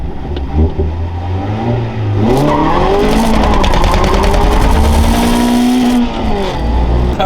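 A tuned Mazda ND Miata accelerates hard in first gear with its tires spinning, the engine note climbing loudly and close over a rough squealing tire hiss, then easing off near the end.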